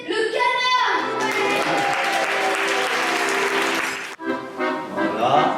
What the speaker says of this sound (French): Applaudissez le canard.